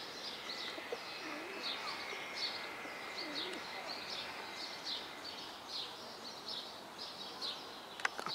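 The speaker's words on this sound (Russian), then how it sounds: "А птицы как поют." Birds sing outdoors on green kindergarten grounds beside a blooming chestnut tree on a hot day. Repeated light chirps and tweets come from a short distance and stay fairly quiet over a steady background hush.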